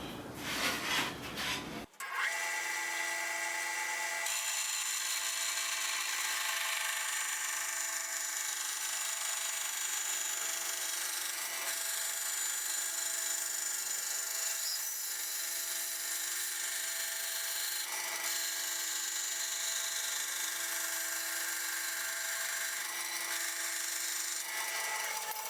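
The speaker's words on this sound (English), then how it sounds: "having cut that at the bandsaw, it leaves a nice rough edge" A bandsaw cuts steadily through a cherry wood box lid, a continuous dense rasping hiss that runs almost unbroken for about twenty seconds after a brief start, loud and close, with no talking.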